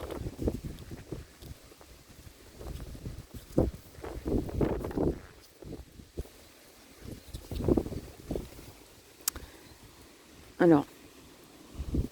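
Wind gusts buffet a microphone outdoors, making uneven low thumps and rumbles that come and go. Someone talks quietly beneath the gusts.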